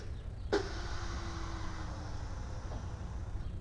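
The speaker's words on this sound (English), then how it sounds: "someone's got hydraulics and they've just lowered their truck down" At a Father's Day car show at Sedgwick County Zoo, a truck's hydraulic suspension lowers with a sharp pneumatic release followed by a steady hissing whine that fades over a few seconds, heard at a distance over outdoor ambience.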